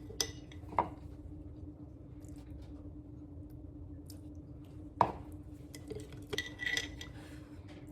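A spoon mixing sourdough starter in a glass jar, a few sharp clinks and scrapes of metal on glass separated by quiet pauses, with a low steady hum in the background.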